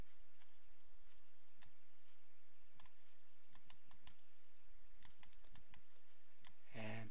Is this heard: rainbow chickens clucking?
no